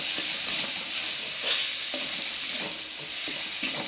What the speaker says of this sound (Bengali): ভালো করে এখন কষাবো যাতে সমস্ত কাঁচা গন্ধ বেরিয়ে যায় আর মশলা থেকে তেল ছেড়ে দেয়।